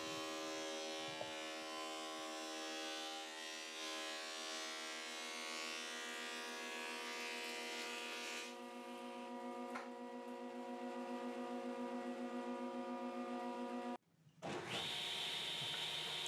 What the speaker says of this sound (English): here I got the planer, and we're going to plane our rough stock down to 3/4 of an inch